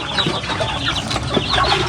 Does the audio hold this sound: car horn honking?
no